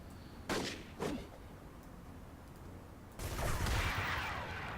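Enemy gunfire in the video game City of Heroes: two sharp shots near the start, then a louder, sustained burst of firing that carries on to the end.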